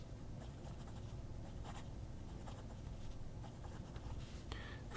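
Steel fine fountain pen nib dragging across paper with a slightly scratchy feel, a steady close scraping texture running continuously with small strokes and pauses.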